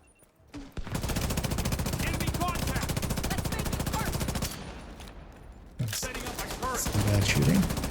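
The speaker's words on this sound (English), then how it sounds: "Some bad shooting." Rapid automatic gunfire in a video game, a dense unbroken stream of shots lasting several seconds, then a quieter stretch and a second loud burst of firing, with other game sounds mixed in.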